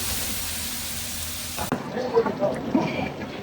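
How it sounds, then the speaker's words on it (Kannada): Onions fry in a pot for biryani, giving a steady, dense sizzle that gives way to quieter frying with scraping and stirring noises close by. "ಚೆನ್ನಾಗಿ ಈರುಳ್ಳಿನ ಫ್ರೈ ಮಾಡ್ಕೊಳ್ಳೋದು"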